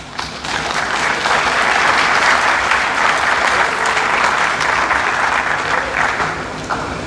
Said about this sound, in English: I thought somebody will clap.